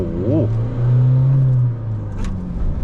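A 2024 Isuzu D-Max X-Series two-door pickup with a 1.9-litre manual engine accelerates from a standstill, a loud, close, steady engine drone that swells and then settles, with someone talking over it.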